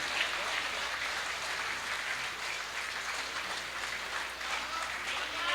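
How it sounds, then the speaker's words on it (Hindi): An audience at a mushaira poetry gathering in Jeddah applauds poet Wasi Shah with dense, steady clapping that holds at an even level from start to finish. "भरपूर तालियां भाई वसी शाह के लिए"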